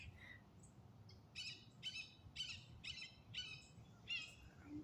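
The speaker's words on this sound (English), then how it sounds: "That's my bird." A pet bird calls in a faint indoor room, giving a series of about six short, harsh squawking bursts in a fairly even rhythm, with no talk over them.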